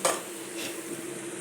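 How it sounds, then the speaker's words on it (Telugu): Tempering spices sizzling in hot oil in a pan, a steady soft frying hiss with a brief stirring scrape at the start and another faint clink midway, no voices. "పోపు వేగిపోయిందండి."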